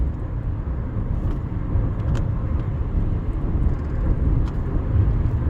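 A car cruises through the runway tunnel at Las Vegas International Airport, a steady enclosed road rumble with tire and engine noise echoing continuously, no voices.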